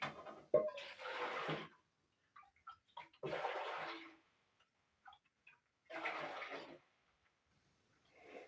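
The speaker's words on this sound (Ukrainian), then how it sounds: "зараз беру каструлю, наливаю воду" Water poured into a saucepan in a home kitchen, three separate splashing pours of about a second each with quiet gaps and faint clinks between them.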